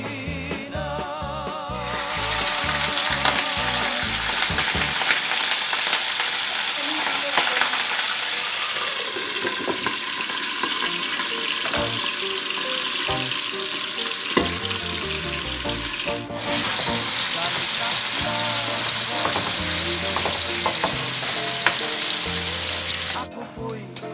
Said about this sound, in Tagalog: So, prito muna natin ang pork chop.